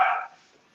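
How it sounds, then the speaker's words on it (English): Indoor dogs give a single loud, brief bark that fades quickly, heard alone with no talk. "Sorry, my dogs are very loud."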